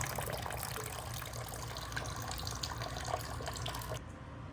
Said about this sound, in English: It allows you to see how the flow of water over time creates a stream